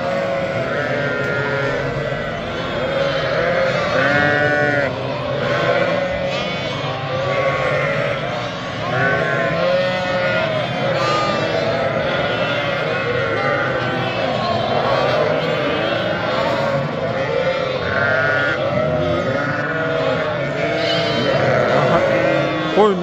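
A dense chorus of many sheep bleating continuously and loudly, calls overlapping throughout, with faint voices mixed in.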